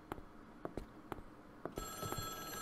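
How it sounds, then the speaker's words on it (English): A telephone rings faintly in the horror game The Flight, its electronic bell tone starting partway through after several soft, spaced thumps. "Oh. I hear a phone. I don't see a phone."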